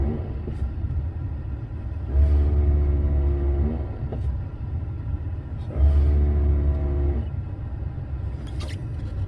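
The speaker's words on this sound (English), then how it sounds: "it's shuttling all the valves in the ABS unit, and it'll actually push air up in through the master cylinder" A Chevy Silverado's ABS unit cycles its valves during a bleed test, giving two separate low buzzing rumbles of about a second and a half each with steady mechanical hum between, heard close with no speech.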